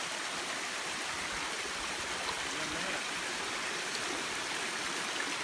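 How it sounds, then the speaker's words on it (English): A strong mountain stream on the Appalachian Trail rushes steadily as a broad, even roar of flowing water, heard up close with no breaks. "Oh, look at that water source."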